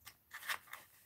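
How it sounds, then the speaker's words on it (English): Scissors snip around the edge of a piece of mail in one or two quick, soft cuts, close and faint, with no voices. "I guess I'm going to have to snip around the"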